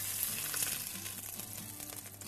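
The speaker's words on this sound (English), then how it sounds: "And then we can lift that into the pan that we're going to cook it in the oven." Seasoned beef for red wine and mushroom braise sizzles softly in a pan, a continuous low hiss at moderate distance with no talking.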